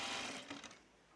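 Brief, soft whir of a sewing machine running a seam on a Teddy Top shirt, steady for a moment before tapering off.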